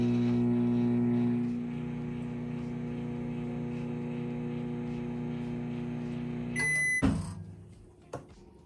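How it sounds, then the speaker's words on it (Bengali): A microwave oven hums steadily while heating cashews in ghee, then the hum cuts off with a short beep and a clunk of the door, followed by a faint knock, with no talking. "এবার কাজু বাদামটি ভালো করে ঘিয়ের মধ্যে মিশিয়ে নিয়ে এটিকে মাইক্রোওয়েভ করে নেব"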